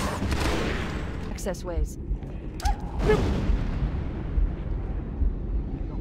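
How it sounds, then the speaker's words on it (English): Grenades fired back and forth in the modded Halo SPV3 game, with booming blasts and gunfire-like bursts rolling under excited talk from players. "We're shooting grenades at each other."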